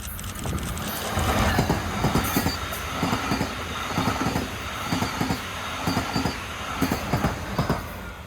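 Brightline pink test train set for PTC testing, lengthened with an extra car from the BrightRed set, rolls past on rails near Boca Raton station, with steady loud rumble, rhythmic wheel clicks over rail joints and faint squealing.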